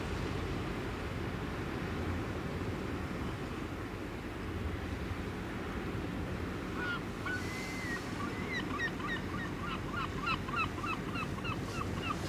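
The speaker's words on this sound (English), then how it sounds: "Steven Seagull's making a lot of noise." Seagull calling near the water at the Westerschelde, a run of repeated sharp cries in the second half over a constant roar of wind and surf, with an oil drilling platform nearby.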